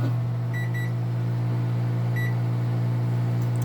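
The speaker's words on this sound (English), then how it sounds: "I'm placing my instant coffee in my microwave, and I heat it on about a minute and a half." A microwave oven heating instant coffee hums steadily as it runs, with a few short electronic beeps near the start.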